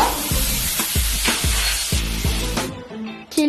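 Onion and capsicum sizzle loudly in a hot pan as soy sauce goes in, with a steady frying hiss broken by several sharp spatula scrapes and clanks against the metal, close and without any talk.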